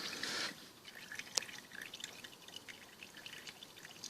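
Engine oil from a 2014 Aprilia Caponord motorcycle draining into a bowl, a faint, steady trickle with scattered drips and one sharp splash, close by and without talk.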